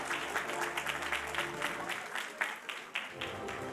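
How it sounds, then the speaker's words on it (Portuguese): Audience applause at an award ceremony for a tax auditors' union journalism prize, a steady wash of clapping with a few sharper claps standing out, mid-distance and continuous throughout. "Muitos aplausos para o primeiro lugar, Mariana Martins Lemos."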